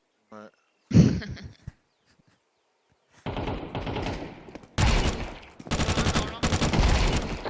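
Rapid gunfire from a FACEIT match in a competitive shooter game crackles in loud bursts of automatic fire, separated by short pauses after a few isolated shots, while players chatter over it.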